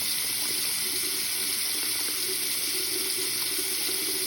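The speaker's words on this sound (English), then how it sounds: "Now I'm just running hot water through" Hot water runs steadily from a kitchen tap into a sink, a constant broadband rushing hiss at even loudness throughout, with no voices.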